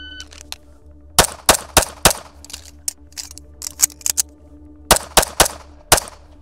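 Pistol shots from an Atlas EOS fired at a target from 3 meters on a range, two quick groups of four sharp, loud cracks with a pause between, ringing in an open space.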